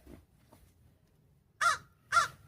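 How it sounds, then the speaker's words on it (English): Two loud, harsh caws come from a crow perched directly overhead. They are spaced about half a second apart, and faint outdoor background noise surrounds them. "there's a crow above me doing crow things"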